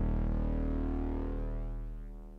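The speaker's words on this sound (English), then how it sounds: "then we have a sub bass, which is made with Silent One, and it sounds like this." Hardstyle sub bass synth made with Silent One in FL Studio: a deep, sustained, droning low tone with a long release, played alone and fading slowly toward the end.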